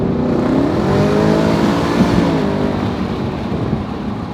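A Roush Mustang's active exhaust in track mode drones loudly and continuously at high revs, gritty and throaty, close and steady throughout with no voices.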